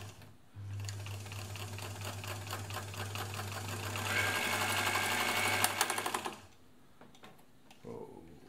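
A classic ELNA Supermatic sewing machine runs with a rapid, even mechanical chatter and motor hum for about six seconds, then stops with a few clicks.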